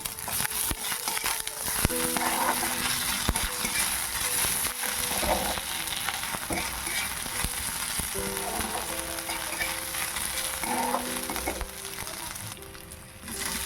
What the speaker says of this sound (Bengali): ভাজা হয়ে যেতে দিয়ে দিচ্ছি আদা রসুন।